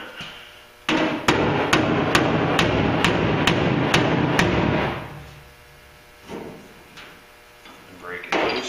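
On a panel beater, a pulling lever on a welded stud gives a series of sharp, evenly spaced metallic knocks over about four seconds. Scattered clunks and faint talk follow.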